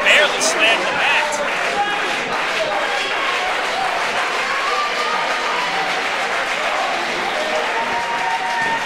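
A wrestling crowd at the Gary Jay vs Anthony Henry match applauds steadily, a continuous wash of clapping and crowd noise beneath a commentator's fast, excited talk.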